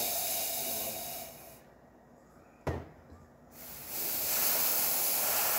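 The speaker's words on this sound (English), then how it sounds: "Nice hard steam, nice and dry." A La Pavoni Carina espresso machine's steam wand releases a hard, dry hiss that dips, spikes with a brief pop in the middle, then surges back steady and loud.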